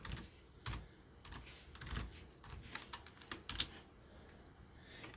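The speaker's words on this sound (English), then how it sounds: "Oops, I made an error since I'm typing with one hand." Someone types with one hand on a computer keyboard while logging in to Ubuntu 24.04 LTS, giving irregular clusters of soft, close key clicks with short pauses between them and no talking.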